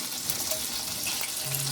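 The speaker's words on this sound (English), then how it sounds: "I'm just going to plop them in this pan here and heat them up with a little bit of butter" Vegetables warming in a pan with butter, giving a soft, steady sizzle and faint bubbling that carries on without a break, close by and fairly quiet.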